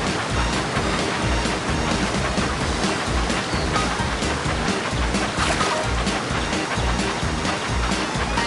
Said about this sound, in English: Help your engine avoid the rocks in the wild water slide at Water Slide Mountain.